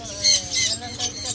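Pineapple conure parrots at a Serampore bird market give a couple of shrill squawks up close, sharp bursts over a busy background.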